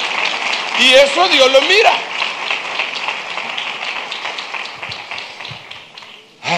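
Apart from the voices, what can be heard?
church congregation applause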